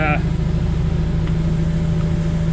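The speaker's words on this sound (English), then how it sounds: "All right, AC clutch is engaged." A K-swapped Porsche engine idles with its AC clutch engaged, a loud, steady low hum with a constant tonal drone; a voice is briefly heard at the very start.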